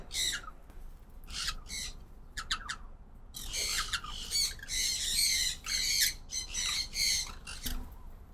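Sun conures squawking in an outdoor aviary: loud, harsh shrieks in irregular bursts, some rapid doubled calls, with a busy stretch of overlapping squawks in the second half, close to the listener.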